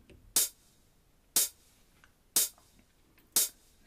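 Drum pattern programmed on a Roland JD-Xi synthesizer, with a cymbal and a partial hi-hat. Four bright, crisp noisy hits fall at an even one-second pulse with soft ticks between them. The pattern is quiet and isolated, with no speech.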